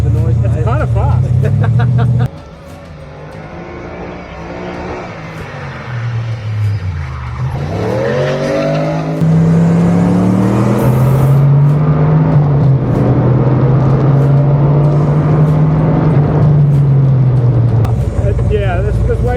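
Turbocharged LS V8 in a lightweight Exocet kit car running 7 psi of boost, loud droning engine revving up and holding a steady high note under acceleration, with tire noise and wind, close and continuous.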